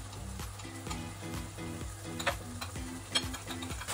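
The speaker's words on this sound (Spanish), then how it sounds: "mientras se cocina el pollo" Chicken cooking in a pan with olive oil gives a quiet, steady sizzle over a rhythmic low ticking background, with faint occasional clinks and no talking.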